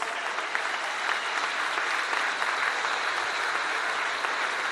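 A crowd at a community welfare program event applauds, a continuous, evenly sustained clapping that fills the whole stretch with no speech.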